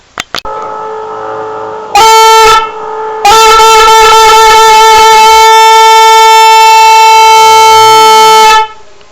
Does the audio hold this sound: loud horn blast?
yes